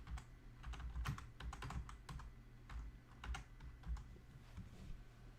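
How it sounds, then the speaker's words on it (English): Fingers type on a computer keyboard in quick, uneven clusters of close, crisp key clicks, faint and alone in a quiet room. "And I'm typing in ExxonMobil."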